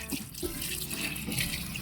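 Water runs steadily into a cooking pot holding onion, cabbage and pechay, a continuous splashing rush that holds at an even level throughout, fairly close.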